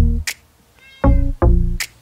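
A pet cat meows several times indoors, with a few short mews and two longer, fuller cries in uneven succession, close and fairly loud with no talking.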